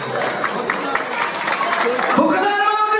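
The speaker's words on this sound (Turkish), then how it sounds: "Bu kadar mı alkışlar anneyle babaya?" Applause breaks out for the parents at a Turkish circumcision celebration, a crowd clapping in a reverberant hall amid music and background chatter, fairly loud and continuous.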